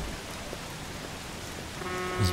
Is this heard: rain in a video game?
yes